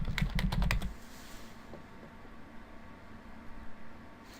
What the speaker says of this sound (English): we're going to type in simple Facebook plugin